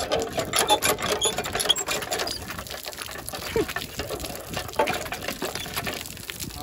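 A faulty household water pump motor in Pakistan runs steadily while filling water, a continuous mechanical whir with gushing, splashing water layered over it at close range, no talk.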